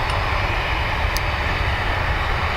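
An Aer Lingus jet bound for Paris takes off from runway 10 right at Dublin Airport, giving a loud, steady engine roar that stays close and unbroken throughout the short stretch.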